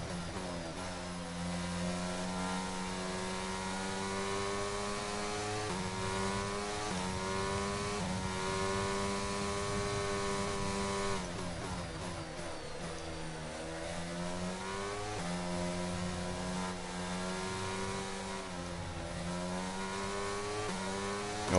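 An F1 race car engine in the video game F1 22 revs high and loud without a break, its pitch climbing and then dropping again and again as it shifts through the gears, with no one talking.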